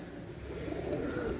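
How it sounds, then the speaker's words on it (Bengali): Pigeons of a fancy breed give soft, low cooing that is faint and close, lasting only a moment with no voices over it. "দেখছেন, অনেক সুন্দর কবুতর ভাই"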